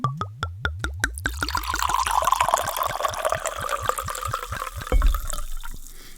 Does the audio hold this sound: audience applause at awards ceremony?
no